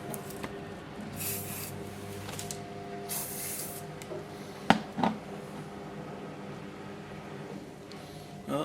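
Spray paint hissing through a partly blocked nozzle in short sputtering bursts, with faint clicks and a low background hum.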